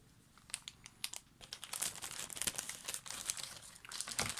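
Plastic bag holding chrome parts of a 1969 Chevelle SS396 AMT model kit being cut open and handled: close crinkling and crackling that grows busier and louder toward the end, with no voices.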